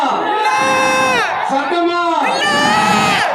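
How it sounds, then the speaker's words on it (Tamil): A large crowd at a political party conference roars with shouts, whoops and cheers, a dense sustained din with rising chant-like swells that stay loud throughout. "மக்களோட சத்தம் கேக்குதா?"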